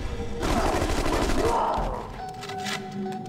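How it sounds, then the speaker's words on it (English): Grenade blast in The Conduit on Nintendo Wii, a loud booming explosion with a rumbling roll that fades over a few seconds. "Just lob a nade in there."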